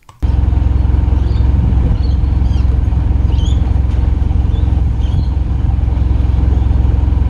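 A vehicle engine idles steadily and close by, a constant low rumble starting abruptly after a brief moment and holding even throughout, with no talk; the vehicle is fitted with a REDARC BCDC1225 DC-DC battery charger.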